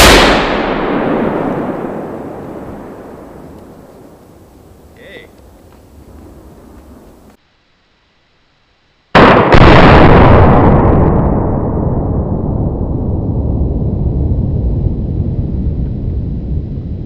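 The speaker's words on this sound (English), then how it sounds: "we'll see what the Gryphon Energetics Thundershot sounds like" A Gryphon Energetics Thundershot exploding rimfire target set under a tire goes off in a loud sharp blast that rolls away. Brief silence follows, then a second heavy boom with a long decaying rumble.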